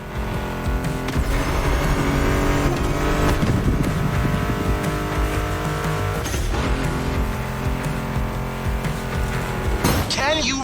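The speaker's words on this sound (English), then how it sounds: "Meshes well with the sound of the engines" Muscle car engine of a Mustang GT in the racing game The Crew Motorfest, a loud continuous roar with revving swells and tire sounds, mixed under steady background music.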